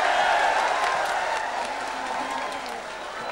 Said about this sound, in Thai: ช่วยปรบมือกับชัยชนะของพงศักดิ์เล็กหน่อยครับ